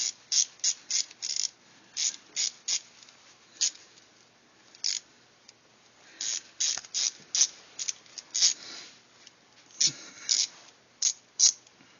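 A 1/4 inch socket ratchet loosening small hose-style clamps on a homemade steering wheel lock tool gives rapid bursts of close, crisp clicking in short repeated runs with brief pauses between them.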